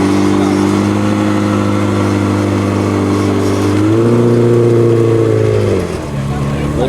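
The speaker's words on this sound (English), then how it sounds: "Those foreign cars sound different, man." A car engine revs loudly and close at a large Cars and Coffee meet, with a steady deep drone that climbs in pitch, holds high, then drops back toward idle.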